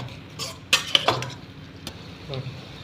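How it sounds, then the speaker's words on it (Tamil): Manathakkali greens sautéed in a pan: a spatula clanks and scrapes against the metal in a few sharp strikes, then softer stirring over a faint sizzle. "இப்போ வந்து கீரை இந்த மாதிரி வதக்கிக்கணும்"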